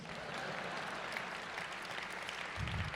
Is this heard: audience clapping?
yes